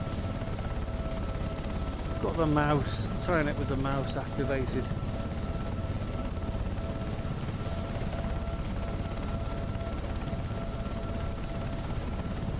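A Sea King helicopter in a flight simulator drones with a steady, low rotor and engine hum that runs unbroken throughout, while someone talks briefly over it early on.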